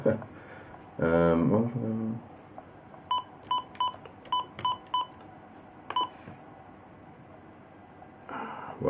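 Keypad tones ring out as a password is entered on a Siemens OpenStage 60 desk phone: a string of short, evenly spaced beeps, close and moderately loud, with a brief voice before them and another at the end.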